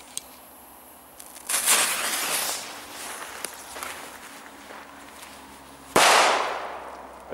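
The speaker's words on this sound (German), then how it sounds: "Wir machen jetzt mal als Vergleich vom Pyrofuchs paar Hirtenböller aus dem Feuerwerkland." Hirtenböller firecrackers, dried after being bought for New Year's Eve, go off in sharp bursts: a faint snap, a louder crackling blast that fades, then a sudden loud bang near the end, all outdoors with no talk.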